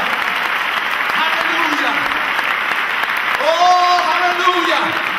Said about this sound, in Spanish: Denle un aplauso al Señor Jesucristo de la vida.